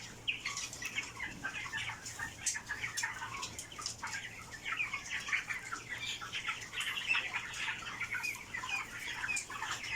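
Broiler chickens on a farm cluck and chirp in a soft, continuous chorus, with scattered wing flaps and a faint low hum underneath.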